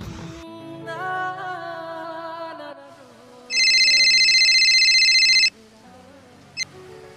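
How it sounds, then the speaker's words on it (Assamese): A mobile phone rings with an incoming call: soft melodic tones, then a loud, steady ring for about two seconds before it stops. "কিয় তোক ইমান বাৰ বাৰ কল কৰিছে এবাৰ ৰিচিভ কৰিতো চা"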